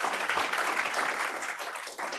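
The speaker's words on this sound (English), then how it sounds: "Maybe one final round of applause for Ms." Steady applause from a seminar audience at the close of an anatomy session, dense continuous clapping throughout with no voices on top.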